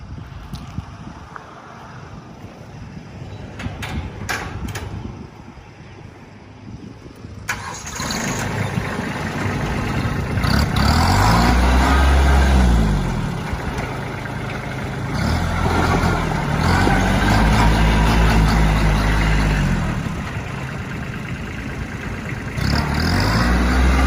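A Kubota B2440s tractor fitted with a sugarcane guard frame and rotary tiller cranks and starts, then runs with a loud, rumbling diesel idle that rises and falls in revs for about twenty seconds, close up and without speech.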